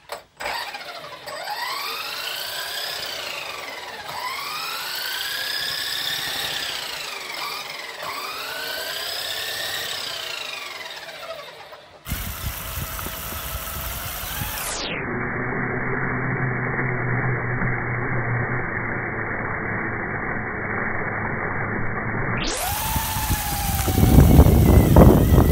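A radio-controlled toy car with balls attached runs its electric motor, first a wavering whirring whine that rises and falls in repeated sweeps, then a louder steady high-pitched buzzing drone, close and continuous with no talk.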